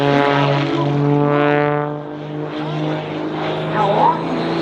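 An airshow plane performs aerobatic maneuvers, its propeller engine droning loudly and steadily close by while the pitch shifts as it climbs toward the vertical. An announcer talks over the engine noise.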